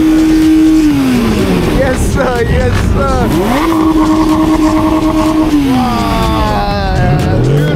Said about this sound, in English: Big boy German machine making some noise here as well, you guys.